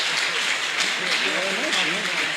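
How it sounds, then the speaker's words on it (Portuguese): A church congregation applauds during a worship service, a broad wash of clapping that carries under a voice and tonal sounds. "Pode aplaudir ao Senhor"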